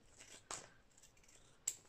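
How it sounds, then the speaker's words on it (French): Scissors snipping through clear stamp packaging at a crafting table: two short, crisp cuts, quiet and close, separated by a pause. "je prends bêtement mes ciseaux"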